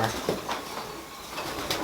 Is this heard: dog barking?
no